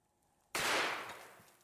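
A single sharp, loud gunshot from a Waffen Physik handgun with a 20-inch barrel firing 700-grain rounds at a cinder block, a sudden blast followed by a long decaying roar and echo.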